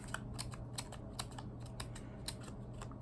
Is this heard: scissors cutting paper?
yes